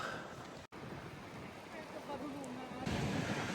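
Gusty wind on the island of Favignana in late August buffets the microphone with a constant roaring rush, a brief dropout early on, and a faint voice low underneath.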